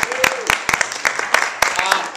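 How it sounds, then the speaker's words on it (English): Audience applause at a Saturday night comedy show, a mix of sharp individual claps with a tonal sweep and loud crowd noise, close and steady over about two seconds. "give yourselves a round of applause"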